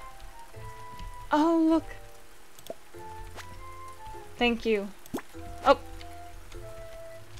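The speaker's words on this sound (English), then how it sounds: "It's raining again, that's twice in one day." Rain in the farming video game Research Story, a soft steady patter of drops on surfaces running underneath a speaking voice and bright chiming game sound effects.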